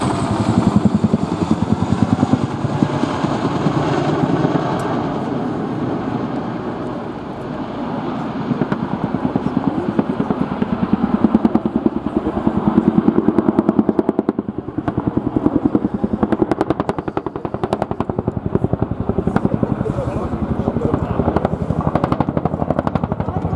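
An RAF Boeing Chinook HC.2/4 twin-rotor helicopter performing its flying display at RIAT 2016 produces a loud, continuous roar with a heavy, rapid rotor thud that swells and eases slightly as it manoeuvres.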